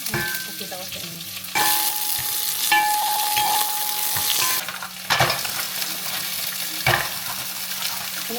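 Mussels cooking in hot avocado oil in a pan give a steady, close sizzle and crackle, with scraping stirring sounds breaking in now and then.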